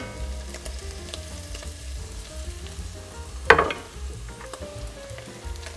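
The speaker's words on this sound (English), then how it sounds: "And now it is time to add 5 cloves of chopped, I should say diced garlic." Five cloves of diced garlic fry in a pot for an Italian bean soup, giving a steady, soft sizzle with a brief louder stir or clatter midway. No one speaks.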